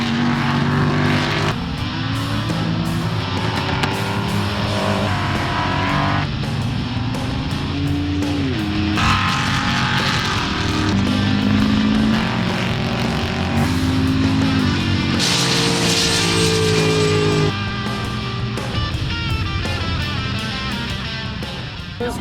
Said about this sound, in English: There was a feeling of fulfillment in watching these proud cars tear up the track.